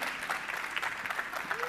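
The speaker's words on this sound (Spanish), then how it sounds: "Pase, aplaudamos ahí." A conference audience claps as a speaker from the low-cost airline Flybondi is welcomed to the stage, a continuous dense patter of applause from a crowd with some voices underneath.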